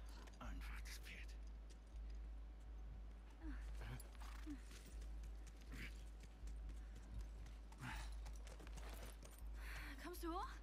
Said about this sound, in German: Einfach das Pferd.